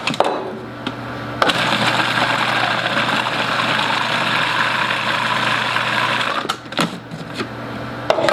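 A mixer beats cheesecake batter with a steady, moderately loud motor whir that runs for several seconds, then stops with a few clunks at either end.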